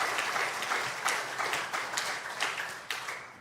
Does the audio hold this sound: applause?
yes